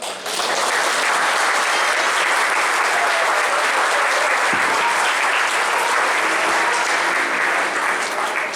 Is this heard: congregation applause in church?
yes